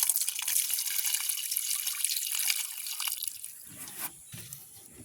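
Whole fish are washed by hand in water in a village cooking pot, with continuous close splashing and trickling that gives way to a few louder sloshes and drips near the end.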